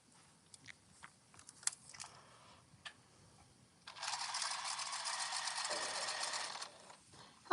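After a few scattered soft clicks and taps, a home sewing machine stitches a jumper seam from the bottom edge, humming in one brief continuous run of a few seconds, then stopping in a quiet room.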